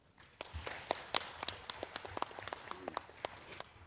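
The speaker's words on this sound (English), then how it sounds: "Let's give ourselves a warm round of applause." A small audience at a policy forum gives a sparse round of applause, individual claps standing out irregularly over a low room murmur, moderately close and fairly quiet.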